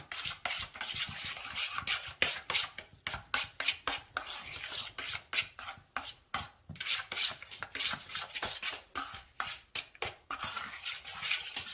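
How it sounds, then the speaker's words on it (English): Honey sauce for slow cooker meatballs whisked briskly in a bowl, a fast continuous rhythm of rubbing, scraping strokes heard up close and alone, with brief pauses between bursts. "We're going to mix this together really well."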